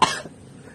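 A single short, sharp cough, close and loud, from a person with a two-week-long cough, dying away quickly into quiet.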